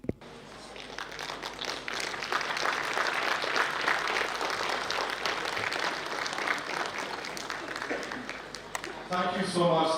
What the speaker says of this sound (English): Can we have a big round of applause once again for all the different artists?